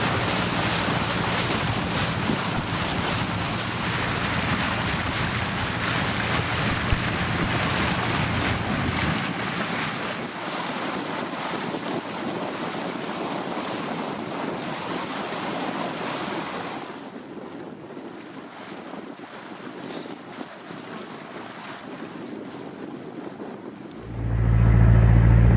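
A floating home drifting on river water near a jetty at Trent Falls, with steady broadband wash of wind and water that thins midway, then a low rumble swelling at the end, no voices.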